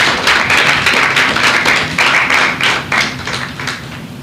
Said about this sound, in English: Can we please give a round of applause for our competitors?